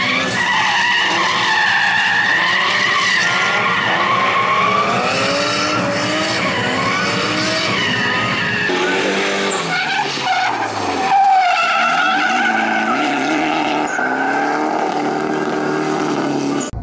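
Real drift cars skid around a newly built drift track with loud, sustained tire squeal and revving engines, the pitch sliding and wavering as they slide through corners, close and continuous.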